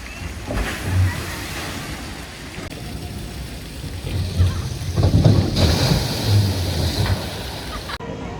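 A Toffee log flume boat at Energylandia rushes and splashes through water in a steady wash, with a louder surge of splashing in the middle and wind buffeting the microphone.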